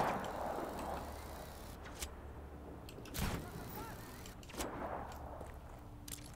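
Sporadic gunfire in the video game Just Cause 3, several sharp shots scattered over quiet, low-level background ambience.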